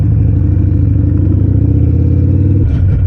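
Harley motorcycle engine rumbling loudly and close in low gear with a fast, even throbbing pulse, easing off near the end.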